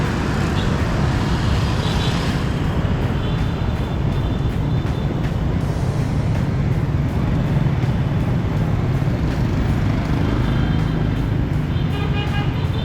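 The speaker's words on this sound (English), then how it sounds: "Okay, so I have a green light and there's tons of traffic." Heavy downtown street traffic in Da Nang at a green light: a dense, continuous roar of motorbikes and vehicles, loud and close, with occasional short horn toots rising over the din.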